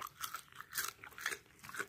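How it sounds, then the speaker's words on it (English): Crisp bites into oven-baked shoestring french fries, several close, distinct crunches in uneven succession, clear and alone without talking. "Can you hear that crunch?"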